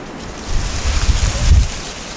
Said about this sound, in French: Et oh waouh, il y a un vent.